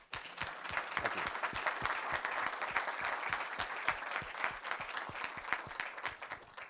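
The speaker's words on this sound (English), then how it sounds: "If we could all give another round of applause." An audience gives a speaker another round of applause at a financial services talk; dense, even clapping from a crowd runs steadily for several seconds.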